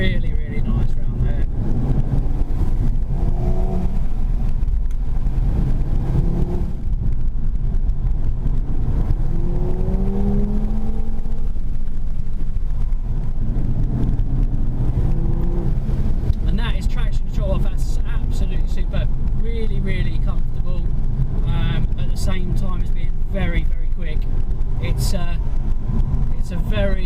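A 2017 Audi TT RS with all-wheel drive and traction control off, heard from inside while driven hard on a twisty road, a loud continuous engine roar rising and falling with gear changes and braking.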